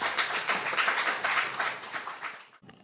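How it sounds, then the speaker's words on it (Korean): A church congregation at a Wednesday worship service breaks into applause, a dense burst of many hands clapping for about two and a half seconds before fading out. "따뜻한 박수로 모시겠습니다"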